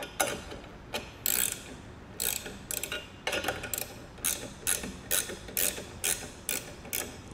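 Ratchet wrench tightening a nut with blue thread compound on a Rhino-Rack Pioneer Platform folding ladder bracket, heard up close as a series of short, sharp clicking bursts in an irregular rhythm, with no talking.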